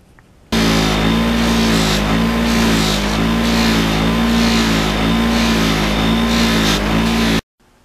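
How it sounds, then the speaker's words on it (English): A bench polishing wheel buffs a small carburetor part from a Yamaha RD400 motorcycle, giving a loud, steady motor whine and hum that runs unbroken for about seven seconds before cutting off. "I could run down to the polishing wheel, just run this on there for 30 seconds."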